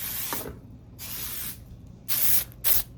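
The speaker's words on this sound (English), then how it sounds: "I'm going to spray some of this in my area, in my spirit room," Bayberry scent spray misted from a pump bottle in a small room: four short hissing bursts, the last two sharper and louder, with quiet pauses between.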